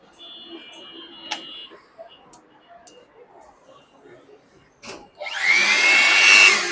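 A brand-new 1300 watt vacuum cleaner at a ship-salvage goods shop is switched on after some clicks and handling. It starts with a loud, steady whooshing roar that carries on to the end.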